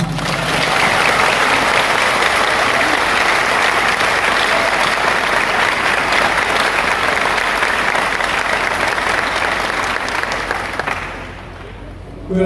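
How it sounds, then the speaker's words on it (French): Loud, sustained applause from a large audience at a university graduation ceremony, a thick roar of clapping that fills the space for about eleven seconds before quickly fading. "mérite d'être saluée par un tonnerre d'applaudissements"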